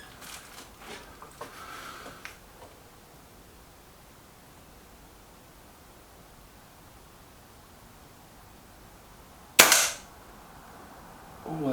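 A Reximex Myth or Kral Puncher Maxi air rifle fires once at an outdoor target, a sharp loud crack after long quiet room tone, preceded by faint handling noises.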